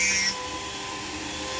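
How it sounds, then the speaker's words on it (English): A diamond drill bit grinds into stained glass under water, giving a steady high-pitched whine with a low rumble beneath it, louder briefly at the start and then holding at an even, moderate level. "Let the drill bit do the work."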